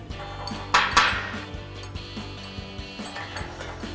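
Metal combo bolts clink and rattle while being handled and threaded onto a running board bracket for a 2010-2023 RAM 2500, with sharp close clanks over a busy mechanical background.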